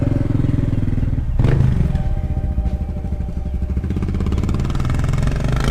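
A motorcycle engine runs loud and near on a street in a wealthier part of town, with a brief rev early on and then a steady, throbbing drone.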